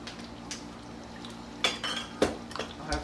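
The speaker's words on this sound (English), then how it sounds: "I've brought out my slotted fish spatula here" Metal clinks and taps of a slotted fish spatula against pans, several short bright knocks in the second half over a quiet kitchen background.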